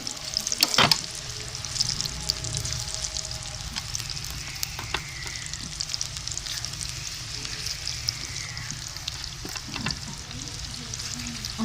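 Ghee heats in a pan over a wood fire with a steady, moderate sizzle that runs throughout, broken by a few sharp clicks and crackles, with no talking.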